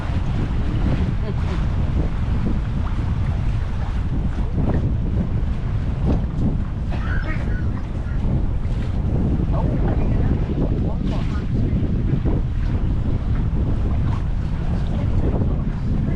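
A boat's engine drones steadily under heavy wind buffeting the microphone, with water rushing alongside throughout; a voice is faintly audible in the mix.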